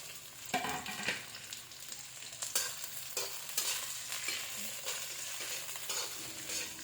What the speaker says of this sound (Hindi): सबसे पहले हम प्याज डालेंगे, शिमला मिर्च, इसे हाई फ्लेम पे हम इसे फ्राई करेंगे।